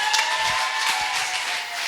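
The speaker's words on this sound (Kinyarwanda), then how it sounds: "Ariko mwakomeye Imana amashyi koko." A church congregation applauds in praise of God: a continuous wash of hand claps at moderate volume, steady throughout with no voices standing out.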